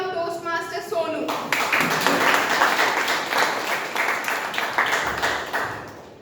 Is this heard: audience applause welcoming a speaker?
yes